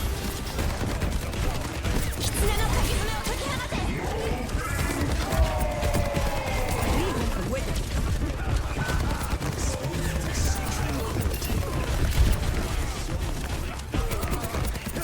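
Rapid pulse-rifle gunfire from Soldier 76 in the game Overwatch rattles in steady bursts amid dense battle noise, explosions and ability effects, continuous and loud throughout.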